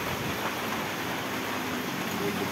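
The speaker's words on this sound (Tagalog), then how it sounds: "Grabe ang ulan." Steady heavy typhoon rain hissing across the whole clip in Real, Quezon, Philippines, a dense broadband wash with no pauses, fairly distant and even in level.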